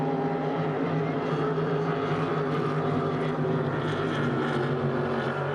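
H350 hydroplane racing boats accelerating hard during a race at St-Félicien, with a loud, steady engine drone and whine that fills the whole stretch, close and unbroken, with a race announcer's voice partly audible underneath.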